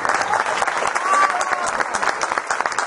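A jazz club crowd in Medellín claps for a trombonist, dense and steady, with voices talking over the applause throughout.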